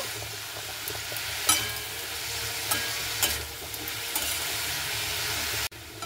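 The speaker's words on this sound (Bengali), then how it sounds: "শাকটাকে আমি কিন্তু 2-1 বার খুব ভালো মতো করে নাড়াচাড়া করে নিচ্ছি" Fenugreek greens being stirred in a hot pan over a steady, dense sizzle of frying, with occasional louder scrapes of the spatula. The sound cuts off abruptly near the end.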